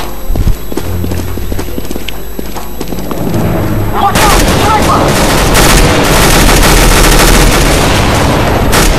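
Gunfire from a Counter-Strike: Global Offensive multiplayer match at long range: sparse sounds at first, then from about four seconds a loud, dense stream of rapid shots and bursts that continues to the end.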